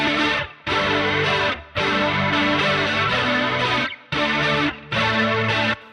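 Crunchy, distorted electric guitar with chorus and flanger modulation and wide stereo spread, a pop tone. It plays loud, sustained phrases separated by short silent gaps, with no talking.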